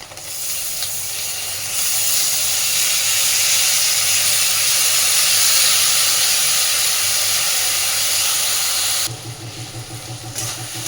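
Soaked red lentils hit a hot pan of frying spices and burst into a loud, steady hiss and sizzle lasting several seconds, then settle into a quieter crackle as the sizzling dies down.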